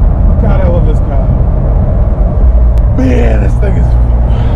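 Porsche engine droning and revving while being driven, a loud low rumble filling the cabin throughout, with someone talking over it.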